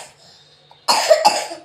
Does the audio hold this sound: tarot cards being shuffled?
no